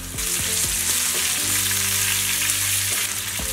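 Curry leaves drop into hot oil with a pinch of asafoetida for a lemon rice tempering, producing a loud, continuous frying hiss up close, with no talking.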